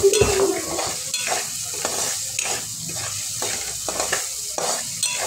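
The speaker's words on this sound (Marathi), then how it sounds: "मीठ घातल्यानंतर हे सर्व व्यवस्थित मिक्स करून घेऊ।" A spoon stirs a salted cabbage vegetable mixture in a hot pan, giving steady rhythmic scraping strokes over a continuous sizzle of frying, close and moderately loud with no talking.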